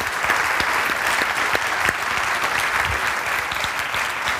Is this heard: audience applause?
yes